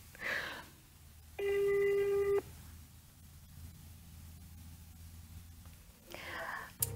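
A telephone rings out once as a call is placed, a single steady electronic ring tone lasting about a second, surrounded by quiet room noise and soft whispered voices.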